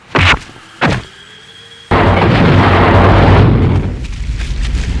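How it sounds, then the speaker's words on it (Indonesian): Two sharp knocks, then a sudden loud explosive blast as a scaffold pole explodes, roaring and crumbling on for several seconds before easing off, in a radio drama. "Setelah tiang steger meledak dan hancur berkeping-keping"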